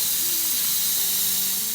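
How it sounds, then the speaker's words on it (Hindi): A pressure cooker vents steam after cooking biryani for Bakra Eid, a loud, steady hiss that runs unbroken throughout, with faint tonal whistles under the rush. "अब इसको वेंट कर लेते हैं, इसको एयर निकाल लेते हैं"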